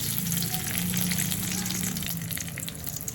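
Whole cumin seeds fry in hot oil for a tempering, giving a continuous close sizzle and crackle with steady bubbling hiss that stays fairly even for the whole stretch.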